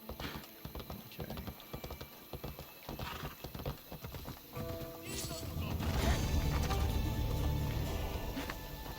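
Horse hooves clip-clop in the Assassin's Creed video game, a steady run of hoofbeats with an occasional whinny under game music and ambience, while a player's voice talks over it.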